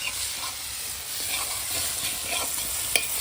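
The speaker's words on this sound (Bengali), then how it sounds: "এখানে পেঁয়াজ, লঙ্কা আর টমেটো দেওয়া হয়ে গেছে, এগুলো ভাজা চলছে।" Onion, chili and tomato frying in a pan over a wood-fired stove, with a steady close sizzle and scraping stirring strokes throughout, a small clink near the end, no voices.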